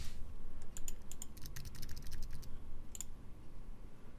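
A computer keyboard clatters under quick bursts of key presses as a password is typed, close and fairly faint, with a short pause before a final couple of keystrokes.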